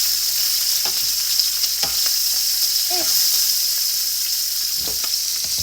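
Steady, loud sizzling and crackling of bacon frying in a pan, close up, with a few light scrapes and taps over the constant hiss.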